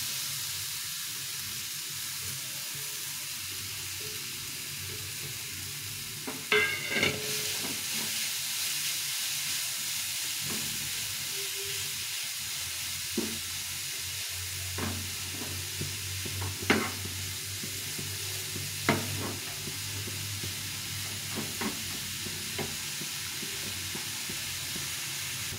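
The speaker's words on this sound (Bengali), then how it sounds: "এই গ্রেট করা গাজরটাকে ভালো করে ভেজে নেব এখানে।" Grated carrot frying in ghee in a pan for carrot halwa, a soft steady sizzle and hiss with occasional spatula scrapes and taps, fairly quiet and without talk.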